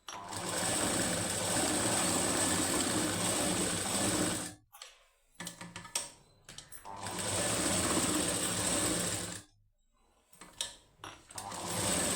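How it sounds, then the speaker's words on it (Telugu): A sewing machine stitches around the lining of a plain high-neck blouse in two long, loud, steady whirring runs, broken by short pauses filled with faint handling clicks. "లైనింగ్ చుట్టూరున కుట్లు వేసుకోవాలి."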